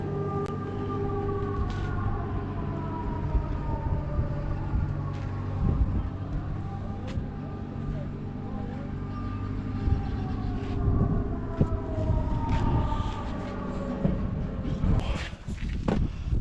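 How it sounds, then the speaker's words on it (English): Air raid sirens wail in long rising and falling tones across the background in Kyiv, mixed with engine rumble and other traffic noise nearby. "So there's an air raid going on at the minute, so you might hear the sirens in the background."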